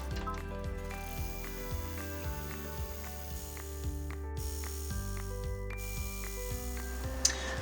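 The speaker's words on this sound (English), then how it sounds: "now we're just going to do that final satin stitch for this strap" An embroidery machine stitches a satin stitch along a strap, giving a steady, rapid mechanical chatter of needle strokes with rhythmic ratcheting pulses, close and continuous with no voices.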